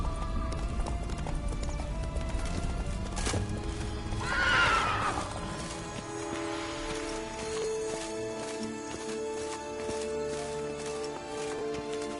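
The horse Roach from The Witcher 3 moves in rapid, rhythmic hoofbeats with a clear neigh partway through, close and prominent, before the hoof clatter settles into a steadier pace.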